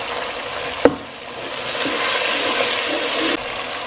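Spices, including salt, red chili, turmeric, garlic, ginger and bay leaf, fry with onions in a pan for aloo matar sabzi, making a steady close sizzle with a sharp stirring clack near the start.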